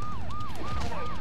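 A police car siren in the video game Road Rash 64 wails in rapid repeating sweeps, loud and close, with game background noise underneath.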